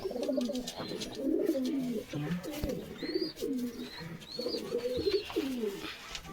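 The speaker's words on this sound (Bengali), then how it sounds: "আরেকটা কালেঙ্কা পায়রা, ওই কাকার বাড়ির থেকে আনা পায়রা আমার।" A Kalenka pigeon in a home loft coos repeatedly in low, throaty rolling phrases, close to the microphone, while faint higher chirps from other birds come through behind it.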